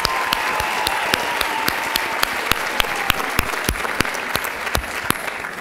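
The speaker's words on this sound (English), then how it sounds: "Let's give them another round of applause" A business and entrepreneurship session audience gives a round of applause, dense clapping with distinct sharp individual claps standing out, steady and fairly close throughout.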